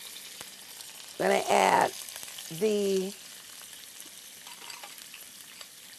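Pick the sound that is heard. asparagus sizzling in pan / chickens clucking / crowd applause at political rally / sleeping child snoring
asparagus sizzling in pan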